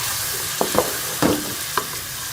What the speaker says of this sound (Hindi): थोड़ा सा भून लेंगे ताकि जो प्याज है वो हमारे से ब्राउन हो जाए